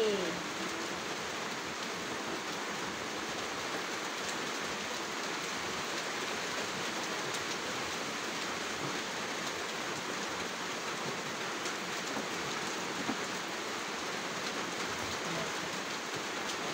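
Steady, even rain hisses throughout, a dense wash of patter with no breaks and no voices.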